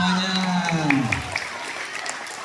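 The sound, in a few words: school students clapping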